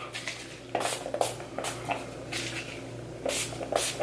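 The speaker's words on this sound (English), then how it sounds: "then I just spray it with setting spray" Several short hissing bursts of Urban Decay All Nighter makeup setting spray, close by, separated by brief pauses, with faint handling noises in between.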